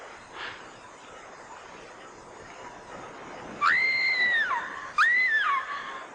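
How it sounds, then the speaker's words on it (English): A distant woman's scream rises over faint background hiss, coming in two drawn-out, wavering cries a second apart, each starting abruptly and then tailing off. "Did you hear that? Sounded like Charity screaming"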